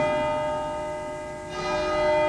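A church bell rings steadily, loud and close, its sustained tone swelling again after a brief dip, with no voices.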